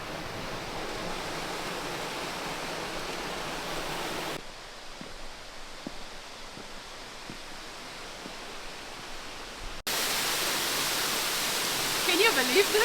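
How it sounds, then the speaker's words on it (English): Distant waterfalls near a diving platform in Purwokerto, Indonesia give a steady broadband rushing hiss, shifting in level between segments, with faint voices at moments. "you can hear the waterfalls in the distance"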